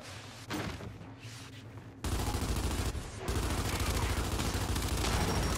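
Gunfire in Gears 5 during a multiplayer match, sustained loud bursts of shots layered into a dense wash of fire, close and continuous, with faint voices underneath.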